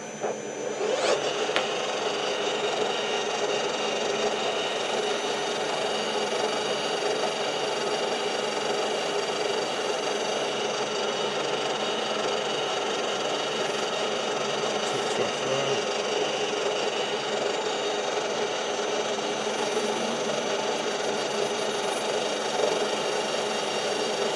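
A slitting saw on a metalworking machine cuts metal at 425 rpm, a steady, loud mechanical hum and grinding whine that continues evenly and close throughout, with no talking.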